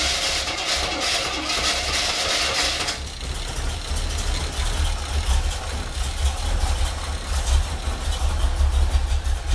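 Corvette C3 V8 engine turning over and settling into a steady idle after carburetor repair, with a loud broadband burst at the start that drops to an even, continuous rumble.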